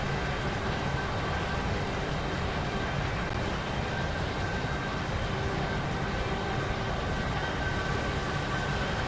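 A train in the Roblox game Stepford County Railway running along the line, a steady loud rumbling drone with a faint tonal whine, continuous and unchanging, no talk.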